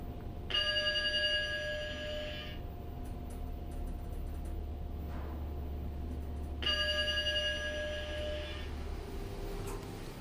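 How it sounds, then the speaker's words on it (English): Schindler 3300 elevator chime at a Courtyard by Marriott hotel in Waterloo, Iowa, sounding twice as a sustained bright ringing tone with a pause of a few seconds between, over a low steady hum of the moving car. "That chime is really annoying."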